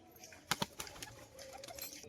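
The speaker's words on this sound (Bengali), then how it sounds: "খুবই সুন্দর মনির পায়রা একটা" A domestic pigeon coos faintly nearby, with a few soft breathy calls and quiet clicks and rustles in a calm, otherwise hushed space.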